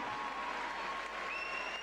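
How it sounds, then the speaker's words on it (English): Continuous applause from a large crowd at a CrossFit Pacific Regional men's event heat finish, a dense even wash of clapping with a faint whistle-like tone partway through. "Keep the applause coming, folks."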